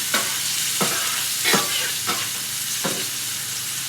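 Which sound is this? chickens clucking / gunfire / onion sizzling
onion sizzling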